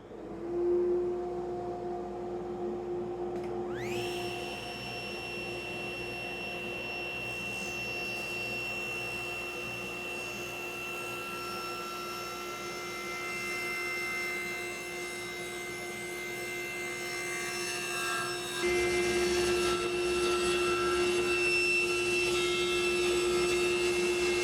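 A saw cuts a taper into a wooden double-bed support using a tapering jig, the motor spinning up with a sharp rising whine and then holding a steady drone that grows louder and rougher near the end.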